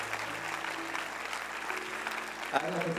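Church congregation clapping together during a sermon, a steady wash of applause under a voice speaking, with a louder burst near the end.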